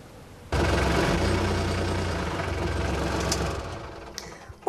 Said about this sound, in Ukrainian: вже на полях білоруси продемонстрували свої комбайни і трактори